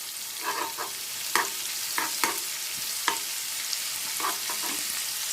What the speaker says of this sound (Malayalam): നമ്മളെ ഐറ്റം നല്ലതുപോലെ ഒന്ന് എണ്ണയിൽ കിടന്ന് നല്ല തിളച്ച് മറിഞ്ഞ് നല്ല ഇടുക്കാച്ചിയായി വരികയാണ്